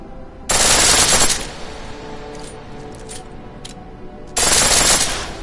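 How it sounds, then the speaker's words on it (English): Two long bursts of rapid automatic pistol fire in a video game, each about a second long and separated by a quieter stretch with faint clicks, loud and close. "The pistol in full auto will take down targets fast, but it'll burn through your ammo"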